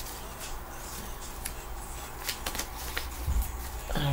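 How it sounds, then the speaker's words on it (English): A deck of hand-made cards is shuffled with a run of soft riffling flutters and light taps, fairly close and alone. "I'm just shuffling up these cards"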